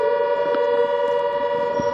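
A steady, sustained air raid siren drones continuously through the whole stretch, loud and unwavering, with faint traffic noise beneath, in Barmer, India.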